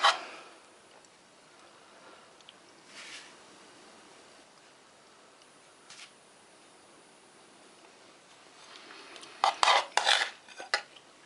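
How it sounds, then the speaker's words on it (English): A spoon scrapes and clinks against a tray of Kazakhstan 24-hour ration dinner, with faint scattered taps before a cluster of louder metallic scrapes near the end, in a quiet setting without talk. "I'm actually going to use my spoon to eat this"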